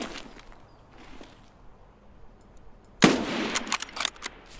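Gunfire in the Escape From Tarkov shooter game: a faint shot or two early on, then a loud burst of sharp shots about two-thirds through, close and punchy with no talk.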